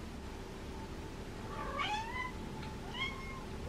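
A cat meows twice, fairly close, rising and falling cries over a faint steady background hum.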